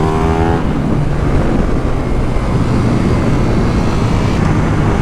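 KTM 1390 Super Duke R, a naturally aspirated motorcycle, accelerating hard with a dense, roaring engine and wind noise, loud and continuous throughout, heard from the rider's position.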